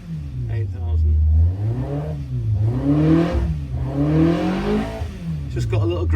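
A car engine fitted with large carburetors revving up and down in rising and falling sweeps, loud and close, with brief idle stretches between blips and some voice activity at the edges.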